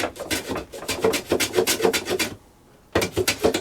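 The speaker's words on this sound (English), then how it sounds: "My screws are sticking out, but I say I'm going to saw and file those off." Protruding screws on a wooden saddler's clam are filed off in a rapid series of close, dry rasping strokes, a brief pause, then a few more strokes.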